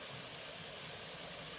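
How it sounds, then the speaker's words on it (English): Tumbling water on a nature walk, a dense, steady rush that fills the scene evenly and fairly softly, with no voices. "tumbling water."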